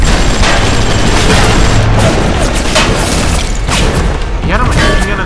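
Continuous loud gunfire and crashing in the BioShock video game, a dense barrage of shots and impacts filling the whole stretch with rapid bursts, close and harsh, with no voices over it.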